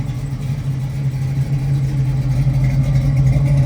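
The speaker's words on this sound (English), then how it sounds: "I'm going to let you listen to the no better sound than a nice small block with Flowmasters." A 1967 Chevrolet Camaro small-block V8 with Flowmaster exhaust idles steadily, a low, even rumble held close and loud without talk over it.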